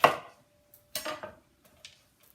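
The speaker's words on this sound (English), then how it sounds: "for the soup, you're just cutting it into chunks" A knife chops sweet potato into chunks for soup, striking a cutting board in three or four close, crisp thuds with short pauses between.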